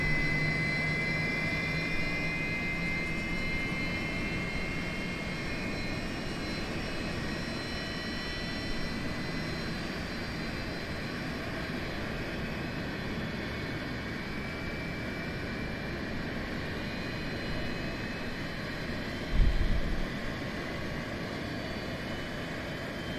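An iniBuilds A300-600F freighter in Microsoft Flight Simulator has its jet engine starting. A steady, loud turbine whine and roar with rising high tones holds throughout, and a brief low thump comes near the end.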